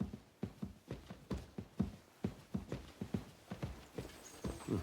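Horse hooves clip-clop in a steady walking rhythm in the medieval game Kingdom Come Deliverance 2, close and fairly quiet, with a soft whinny or creak near the end.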